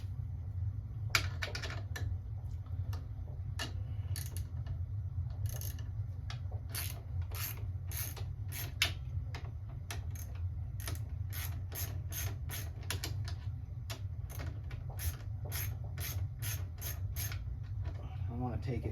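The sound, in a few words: ratchet loosening motorcycle exhaust bolts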